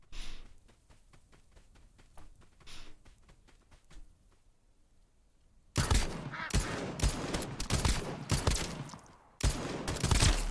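Rapid gunfire from the video game Escape From Duckov, a loud dense burst of repeated shots over the second half after a quieter stretch of faint ticking, with a brief pause before another burst.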